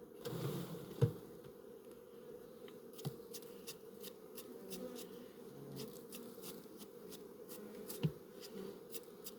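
A soft, steady hum of honeybees buzzing close by at an apiary hive frame, with occasional faint clicks and taps over the drone.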